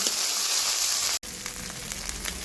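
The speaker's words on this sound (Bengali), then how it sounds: "হলুদ গুঁড়ো এই সব কিছু মশলা ভালো করে আমি কষে নেব যতক্ষণ না মশলার গা থেকে তেল ছাড়ছে" Spices with turmeric powder and salt fry in oil for a chiti crab jhal, a bright close sizzle filling the clip, cut by a brief gap, then a softer crackle.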